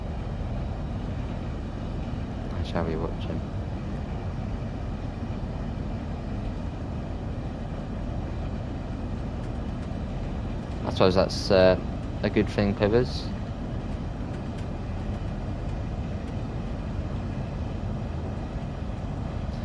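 A Southeastern high-speed train runs in Train Sim World 2, with a steady low cab rumble throughout and a person talking briefly over it.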